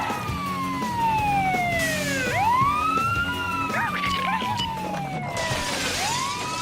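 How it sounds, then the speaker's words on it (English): Wailing fire truck siren from a Saturday morning cartoon, rising and falling in sweeping swoops, loud and continuous over background traffic-like noise. "this one hits the siren"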